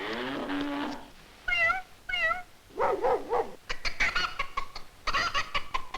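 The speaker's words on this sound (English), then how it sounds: "cats meow" Several distinct cat meows come in a rising and falling series, some drawn out and some short, mixed with clucking chicken sounds near the start and end, all close and clear with no talking.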